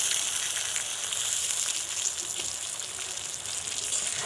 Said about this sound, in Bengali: এবার আমি ওই মশলার মধ্যে ভেজে রাখা চাল কুমড়োকে দিয়ে দেব